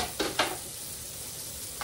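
Chopped onion cooks in hamburger steak pan drippings, with a low steady sizzle and two soft stirring scrapes near the start and another at the end.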